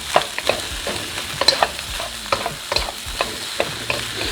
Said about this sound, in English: Now you're gonna kind of stir fry the rice with the shrimp, oil, vegetables, all together.